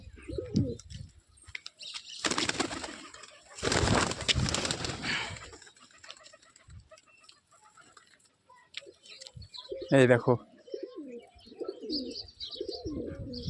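Pigeons coo in low, soft bursts close by, mixed with loud wing flapping and fluttering. A person briefly speaks partway through.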